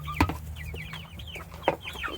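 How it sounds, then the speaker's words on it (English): Hungry backyard chickens on an urban homestead cluck and chatter close by, with a couple of sharp louder calls over a low steady hum. "hungry chickens."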